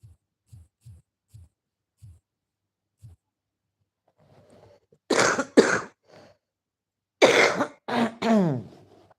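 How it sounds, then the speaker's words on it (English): Several harsh, loud coughs close to the microphone, in two bursts separated by a pause, preceded by soft low thumps. "the deadly cough is still there"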